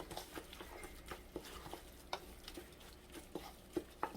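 Chili powder is worked by hand into a wet seasoning of water and oligosaccharide syrup for marinating blue crab, giving soft, faint squelching and tapping mixing sounds in an irregular rhythm with no talking.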